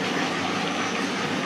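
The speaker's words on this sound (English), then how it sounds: "the David Special tribute train comes along with a 9F" A model railway tribute train hauled by a 9F locomotive runs along the layout, giving a steady, fairly faint rumbling roll with no talk over it.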